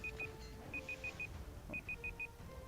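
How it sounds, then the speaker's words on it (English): A timer beeps in two bursts of rapid, evenly spaced electronic beeps, high and clear over a low background rumble, with no talk. "That is my timer right there, saying that the boosts need to be reboosted."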